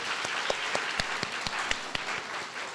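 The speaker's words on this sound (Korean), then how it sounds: "우리 수고한 모든 종들께 박수." A church congregation bursts into applause, a dense and steady run of many hands clapping with a few sharper, louder claps standing out through the roughly three seconds.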